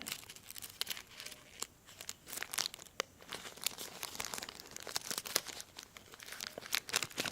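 Plastic bag or sheet wrapping on a set of car door handle decals being crinkled and cut, with dense crackling rustles and sharp snips running continuously at close range, no voices.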